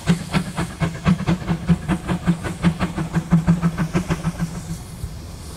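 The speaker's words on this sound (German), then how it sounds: "Vor dem Lokschuppen macht sich die 1955 in Babelsberg erbaute 99-1789 bereit für die nächste Fahrt nach Moritzburg." The narrow-gauge steam locomotive 99-1789, built in 1955 in Babelsberg, chuffs rhythmically in front of the engine shed, with about two dozen steady steam beats over a low hum before settling into a soft hiss.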